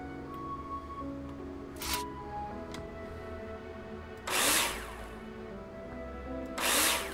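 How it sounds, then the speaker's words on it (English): A power drill in the Builder Simulator video game drives fasteners into plasterboard in three short whirring bursts, separated by quieter clicks and soft handling noises against a low background hum. "Take your drill out and screw them in."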